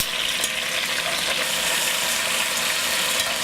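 Salt-and-peppered oxtail, big meaty pieces, fries in a pan with a steady, dense, close sizzle that hisses without pause and carries no talk.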